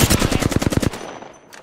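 Rapid automatic gunfire from Apex Legends, a loud, dense burst of shots for about a second that then cuts off, followed by a faint, distant shot near the end.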